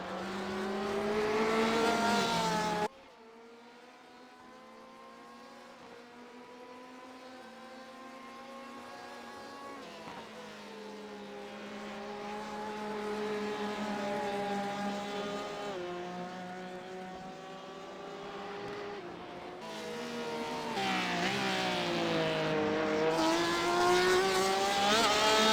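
A Ferrari race car engine at a night endurance race at Imola howls through gear changes, pitch climbing and dropping as it accelerates and shifts, swelling louder toward the end as the car draws near.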